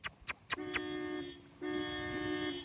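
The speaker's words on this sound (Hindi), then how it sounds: "बुलेट का हॉर्न बजा जब भी आऊंगे" Royal Enfield Bullet motorcycle horn honking: a few short clicks, then two sustained, buzzy electric horn blasts separated by a brief gap, close and fairly loud with no talk.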